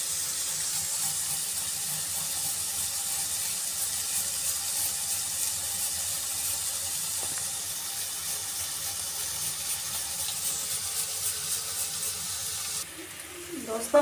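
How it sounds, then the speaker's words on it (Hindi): Water poured from a bowl into semolina for a savoury breakfast dish, a steady close splashing and hissing pour that runs unbroken and then cuts off near the end. "अब डाल के पानी, एक कटोरी मैंने डाल दी, ये दूसरी कटोरी है।"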